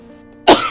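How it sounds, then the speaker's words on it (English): A single short, close cough bursts out after a quiet stretch with a low hum, a sound effect in a narrated story of someone stepping out of a dust cloud. "Apple Bloom coughed and wheezed for air as she stepped out of the dust cloud"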